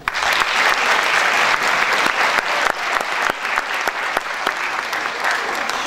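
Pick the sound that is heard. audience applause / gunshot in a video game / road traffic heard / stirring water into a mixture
audience applause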